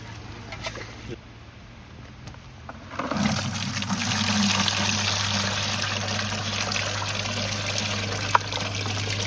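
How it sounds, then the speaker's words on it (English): Creek gravel being sifted through a screen during gold panning in Alaska, a quiet start that swells into a continuous rushing, rattling wash of water and stones, heard close, with voices talking beneath it. "We're going to do some sifting now."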